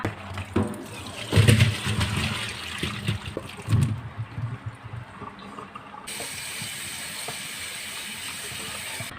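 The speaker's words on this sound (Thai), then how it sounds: "ตอนนี้กล้วยของเราก็ครบเวลาแช่เสร็จเรียบร้อยแล้วเราจะไปล้างน้ำปูนใสออกสักหนึ่งครั้งนะคะ" Ripe Namwa bananas that soaked in limewater are rinsed under running water, with bursts of splashing and handling in the first four seconds and then a steady, fainter trickle.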